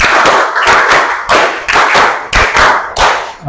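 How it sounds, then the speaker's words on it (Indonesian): A classroom of students claps in counted patterns during an ice-breaking activity, producing loud, sharp bursts of clapping in distinct groups separated by short pauses. "tepuk 2, tepuk 3, tepuk 4, tepuk 5, tepuk 5 2 kali"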